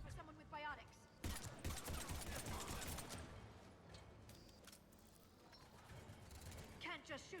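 Mass Effect combat with bursts of automatic weapon fire and mechanical clatter, loud and dense at first and then easing, with squadmates talking over the shooting.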